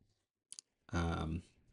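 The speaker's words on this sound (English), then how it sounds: "Just grabbing my calculator makes it a lot easier here." Two quick, soft clicks come from keys pressed on a handheld calculator, then a short spoken phrase follows.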